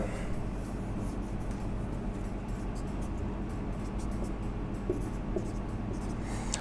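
Marker or chalk strokes while a chemistry teacher writes a haloalkane formula on a board, steady scratchy writing continuing throughout at moderate level with no talk.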